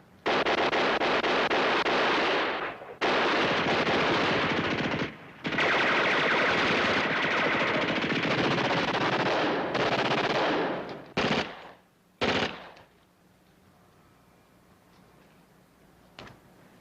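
Intense sustained bursts of machine-gun and rifle fire in a World War II combat TV drama, loud and close, broken by short gaps before a final burst and a quieter tail.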